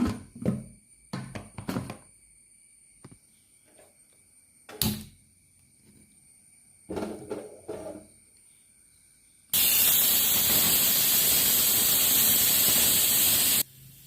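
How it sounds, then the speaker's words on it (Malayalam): Pressure cooker cooking toor dal sends out a loud, steady whistling hiss of steam that runs for about four seconds, after scattered kitchen clinks and taps in a quiet room. "അപ്പോൾ നമ്മുടെ പരിപ്പ് ഇതാ ഒരു മൂന്ന് വിസിലടിച്ചിട്ടുണ്ട്"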